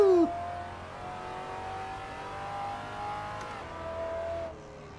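A European V8 race car in the Assetto Corsa sim pulls away with a sustained, droning engine note whose pitch climbs steadily, with a sharp shift at the start and another drop just before the end.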